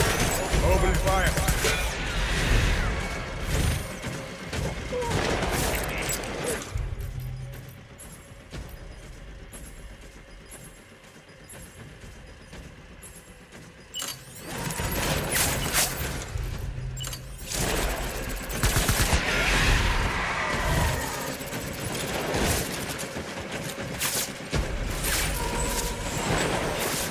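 Heavy gunfire in Death Stranding Director's Cut, with sustained loud bursts of shots and crashing impacts. The firing eases in the middle stretch, then resumes intensely, and voices shout over the combat.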